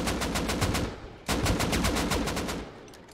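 Automatic fire from an LR-300 rifle in Rust, a steady rapid burst that breaks off briefly, then resumes at the same pace, loud and close with no talking.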